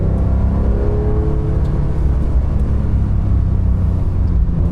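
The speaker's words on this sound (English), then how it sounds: "Oh, great sounding engine." A Porsche 992.2 Carrera T driven in the rain, its engine giving a loud, steady, deep rumble from inside the car, with no talking.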